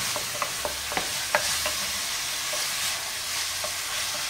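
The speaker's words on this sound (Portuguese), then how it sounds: "A pimenta síria e a pimenta do reino, o sal e vou deixar refogar." Kibbeh meat mixture with Syrian pepper, black pepper and salt sautéing in a pan, a continuous loud hiss of frying punctuated by several sharp spoon scrapes and taps, close up with no talk.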